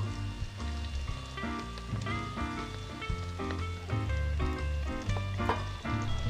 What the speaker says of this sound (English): add in the tomatoes and coat them with the oil